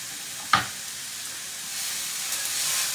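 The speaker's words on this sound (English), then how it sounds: "So you can hear my rice sizzling away over here." Steady frying sizzle of fried rice in a pan, a soft broadband hiss that swells slightly toward the end, with one sharp clatter near the start like a utensil hitting the pan.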